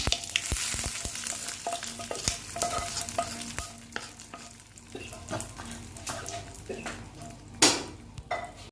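Food poured into a hot pan while cooking a rice-and-lentil dish, with a bright sizzle and repeated close metallic stirring clicks and knocks against the pan, rising to a louder burst near the end.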